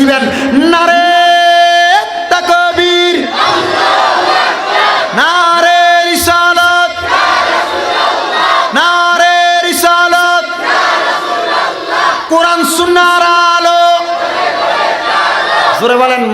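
A large crowd at a Bangla religious gathering shouting takbir in unison, several loud rhythmic chanted bursts following a lead voice, with short pauses between the repeated calls.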